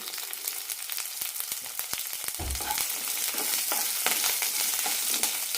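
Shallots and curry leaves sizzle and fry steadily in a pan for horse gram curry, a continuous close hiss with occasional stirring scrapes and no voices.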